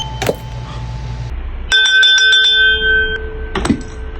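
A wishing bell rings with bright metallic tones and a sustained shimmering chime lasting over a second, preceded and followed by short sharp clinks, close and loud with no speech.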